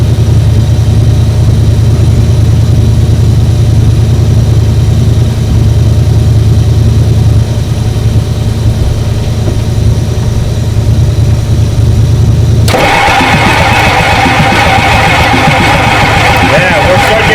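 Ford 7.3 IDI diesel engine cranking over in a steady low drone, then abruptly catching into a louder, rougher clattering run near the end, heard close up.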